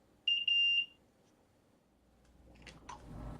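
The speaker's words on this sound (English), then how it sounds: "one to beep the horn" A small .NET Core robot built with SimpleGPIO sounds its horn in a short, clear electronic beep, a steady tone broken into a few quick pulses, followed by quiet and then faint handling clicks and rumble.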